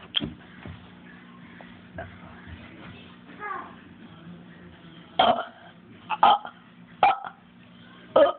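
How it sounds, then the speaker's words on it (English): A loud burp after drinking cream soda: several short, sharp bursts arrive one after another in the second half, standing out against a quiet background. "I'm gonna see how loud my burp is"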